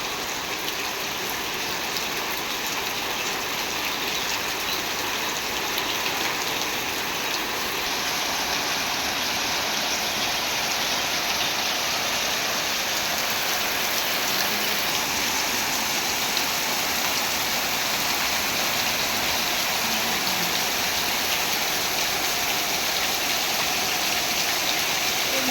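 Heavy evening rain pours down in a loud, unbroken roar, a dense steady hiss of water lasting the whole stretch with no voices or breaks.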